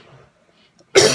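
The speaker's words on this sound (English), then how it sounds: "God, this cough is annoying." A man coughs once, loud and close, a sudden harsh burst at the end of a near-silent stretch.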